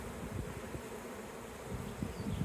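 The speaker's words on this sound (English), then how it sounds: "scooping up bees with your bare hands is a very delicate business" A swarm of honey bees being recaptured gives off a dense, continuous buzzing hum, close and moderately quiet, with no voices.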